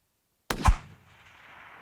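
A rifle being sighted in on a range fires one sharp, loud shot out of silence, with a heavy low boom and a rumbling echo that fades slowly.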